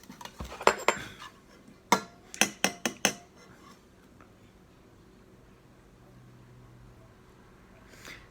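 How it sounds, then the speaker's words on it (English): Vegan breakfast sausage mix with maple syrup and vegan ham base stirred in a bowl: a few sharp utensil clinks against the bowl, a quick cluster early on, then quiet scraping and a last faint clatter. "And then I'll give it a good mix."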